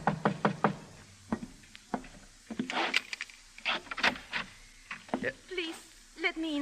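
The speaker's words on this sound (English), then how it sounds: "there was a knock on the alley door." Sharp knocks on an alley door ring out in a quick series of raps at the start, followed by a voice speaking in an old-time radio drama.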